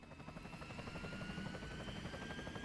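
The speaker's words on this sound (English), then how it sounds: "not really sure how she got into the helicopter without getting hit by the blades" Helicopter in a Resident Evil 4 cutscene, a steady rotor thrum with rhythmic blade chop and a faint high whine, continuous and fairly quiet with no talk.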